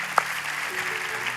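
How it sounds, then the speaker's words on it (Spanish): Congregation applauding in a church during a worship service, a steady wash of clapping with one sharp clap near the start, moderately distant and even throughout. "demos un aplauso al Señor"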